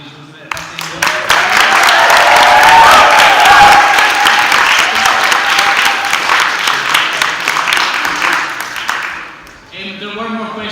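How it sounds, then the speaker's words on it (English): An audience at a university presidential debate breaks into loud, sustained applause that swells quickly, holds, then tapers off, with a voice speaking over the start and the end. "Okay, everybody have another round of applause,"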